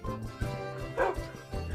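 Barking linked to a dog in the Minecraft video game comes as a few short, yappy bursts at moderate volume. A voice imitates the barking, and it may be part of the sound.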